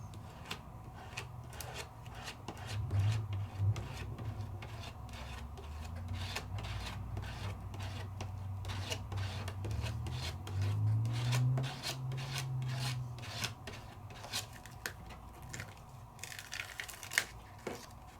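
A palette knife scrapes and spreads IZink paste across an Aladine 3D stencil, giving a steady soft rasping and rubbing with small clicks and ticks throughout, fairly quiet and without speech.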